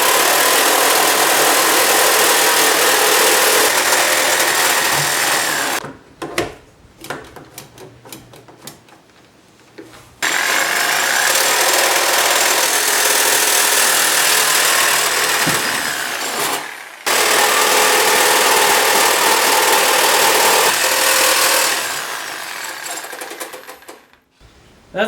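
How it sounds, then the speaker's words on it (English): A reciprocating saw (Sawzall) cuts rusted body metal on a Nissan Altima in three long, loud, rattling bursts, with short pauses and quieter handling noise between them. "I'm just gonna cut my lines with a Sawzall"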